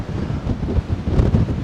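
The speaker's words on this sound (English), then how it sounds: "Whoa. It's pretty windy in here." Strong wind inside a shelter near Trevose Head and Stepper Point buffets the microphone in loud, low, rumbling gusts that swell and fade continuously, with no voices.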